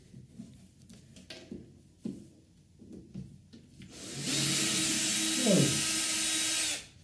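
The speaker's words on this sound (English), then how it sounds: "remove the last two screws" A power screwdriver whirs steadily for a few seconds, close and fairly loud, as screws come out of the back of an old speaker, after a stretch of quiet handling noises.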